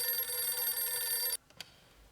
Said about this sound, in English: he's getting a phone call